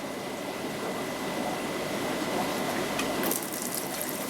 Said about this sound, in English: the siphon's going now